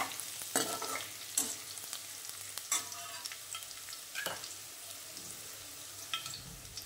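Garlic paste sizzles and fries in a pan while a spoon stirs it, giving a steady low crackle broken by several sharp scraping clinks at irregular intervals, fairly quiet and with no talking.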